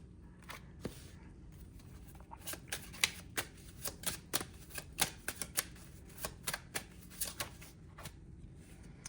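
Tarot cards are shuffled by hand, giving a run of crisp, irregular riffling snaps and flicks close to the listener over a faint low hum, with no talking.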